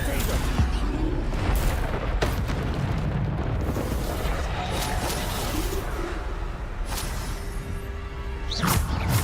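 Bombarda explosion spell in Hogwarts Legacy gameplay, a dense rumbling blast with booms and whooshes that stays loud throughout, with sharp bursts near the end.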